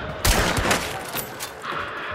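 Hunt: Showdown gunfire: a couple of sharp close shots in quick succession with short echoing tails, followed by fainter scattered reports in the background.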